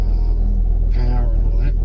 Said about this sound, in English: What I do is I normally let it idle for a little while